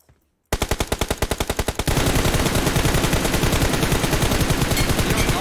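Rapid automatic gunfire in a video game shooter, first in a steady burst of evenly spaced shots, then a denser, louder continuous volley with no talking.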